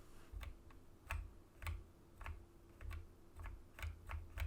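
Computer keyboard keys are pressed one at a time in an uneven rhythm, about a dozen soft, close clicks over a low background hum.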